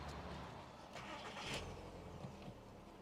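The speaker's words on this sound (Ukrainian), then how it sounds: "Давайте його запустимо." A 2002 VW Golf IV 1.6 petrol engine cranks and catches, then settles into a low, steady running rumble, heard fairly close.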